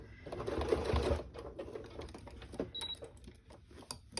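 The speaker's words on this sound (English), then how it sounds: "And it'll sew down all your little pleats." A sewing machine stitches down small pleats on a fabric basket exterior in a loud, fast burst, followed by quieter intermittent whirring and clicks.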